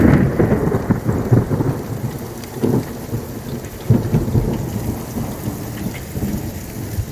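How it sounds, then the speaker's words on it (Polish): Heavy rain with thunder and a little hail drumming on a camper roof during a strong storm in Croatia, with steady loud rainfall and repeated low rumbles of thunder rolling through, no talking. "Grab trochę pada."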